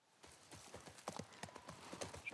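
Horse hooves clip-clopping in The Last of Us Part I, a steady run of close, distinct hoofbeats with no talk over them.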